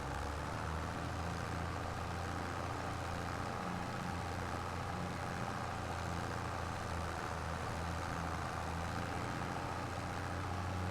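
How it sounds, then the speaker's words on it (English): A John Deere 3650 tractor engine runs at a steady idle, a continuous low rumble with an even, unbroken drone and no voices. "This 3650 is a great little tractor."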